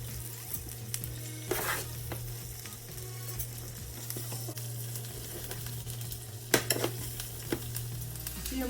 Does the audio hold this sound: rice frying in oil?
yes